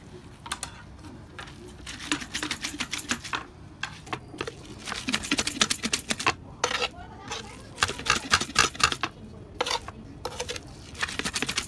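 Green chilies crushed into thecha on an iron griddle with a metal pot: rapid, gritty scraping and clattering strikes in uneven bursts, close and fairly loud, with a voice talking underneath.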